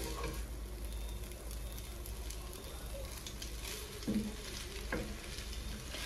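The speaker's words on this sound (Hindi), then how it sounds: "ये जो बॉयल हुए नूडल्स हैं हम ये डालेंगे. इसको मिक्स करेंगे." Boiled noodles are stirred into rice in a large pan, giving a continuous soft sizzle of frying with the scrape of a spatula and a couple of brief knocks near the end.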